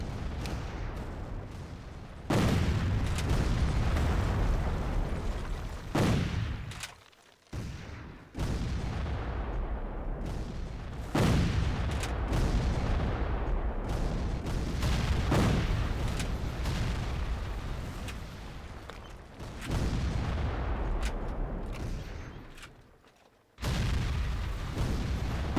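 Gunfire crackles and booms in a Civil War battle video game on Xbox 360, with repeated loud volleys and cannon-like blasts running almost continuously, broken only by a few brief quiet gaps.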